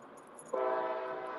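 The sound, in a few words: train passing through village with horn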